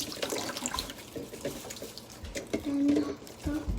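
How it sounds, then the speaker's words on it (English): Tap water runs and splashes while something is rinsed under it, a continuous close trickle with uneven bursts and a brief higher-pitched gurgle partway through. "And then you rinse it with water."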